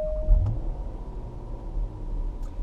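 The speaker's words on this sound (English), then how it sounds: "His car is started." A Range Rover L322 SUV sits started and idling before a street race, giving a low, steady engine rumble that stays quiet and even, with no talking.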